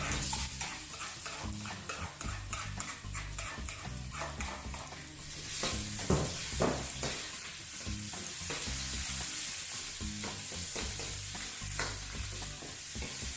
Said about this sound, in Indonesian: tumis ya sampai harum teman-teman. Jangan sampai gosong.